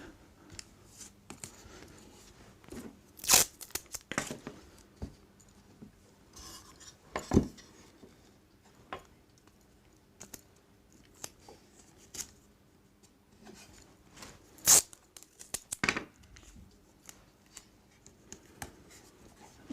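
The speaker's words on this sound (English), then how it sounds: "A little bit of masking tape" Masking tape is torn and pressed onto a handmade box. Sharp, scattered tearing rips and light rustles and taps come close and quiet, separated by pauses.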